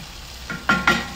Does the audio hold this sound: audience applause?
no